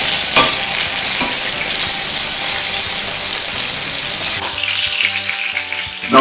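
Food sears in a hot pan with steady, loud sizzling and crackling throughout, broken by a few stirring scrapes near the end.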